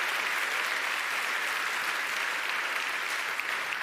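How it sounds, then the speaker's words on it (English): Keynote audience at the OVHcloud Summit 2023 breaks into sustained, dense applause that holds steady and fills the room for the whole stretch, with no talk over it. "Un double tonnerre d'applaudissements."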